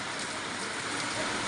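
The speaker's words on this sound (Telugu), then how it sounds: "నిన్న మధ్యాహ్నం నుంచి పడుతూనే ఉందండి మాకు ఇక్కడ వాన" Rain that has been falling since the previous afternoon on a rural village home with a leaking roof: a steady, dense hiss of rainfall that is continuous and even throughout, with no voices.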